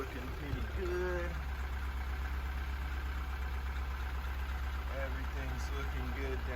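A freshly rebuilt Honda B18B four-cylinder car engine idles steadily after its first start, a constant low rumble running throughout, with people talking over it and brief tonal squeals.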